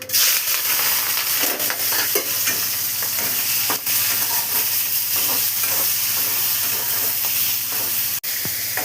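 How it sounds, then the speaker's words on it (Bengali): Shrimp frying in oil in a wok for a Bengali shrimp and long-bean curry, a loud, steady sizzle with occasional stirring scrapes running throughout, close up and with no talking. "চিংড়ি মাছ কোটা দিয়ে দিলাম।"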